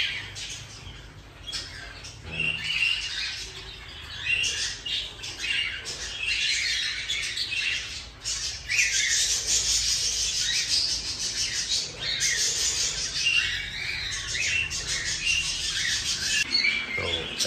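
Cockatiels in a breeding cage squawk and chirp almost without pause, harsh and shrill at close range, with no speech.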